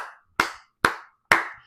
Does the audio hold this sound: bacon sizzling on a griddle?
no